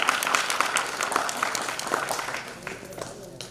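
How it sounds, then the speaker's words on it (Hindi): An audience claps for a children's drama performance at a prize-giving event, a dense burst of applause that thins and fades over a few seconds. "मैं चाहता हूँ एक बार इनके लिए तालियां बजा दी जाए।"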